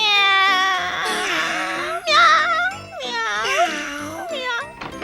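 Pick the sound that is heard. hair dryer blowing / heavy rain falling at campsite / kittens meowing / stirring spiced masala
kittens meowing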